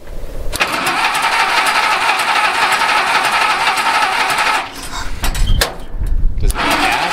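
A 1971 Speed Star water well drilling rig's Ford Flathead engine cranks loudly and steadily, trying to start, then the cranking stops and voices talk over a few uneven bursts.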